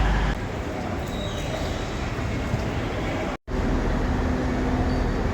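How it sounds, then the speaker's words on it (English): Steady ambience on a platform at Reading train station, a broad continuous rumble and hiss of rail and station noise with a brief dropout partway through. "So this is Reading train station."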